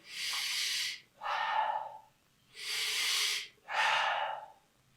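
Two rounds of heavy breathing during a morning workout, each a loud drawn-in breath followed by a forceful exhale, evenly paced and close, with no talking.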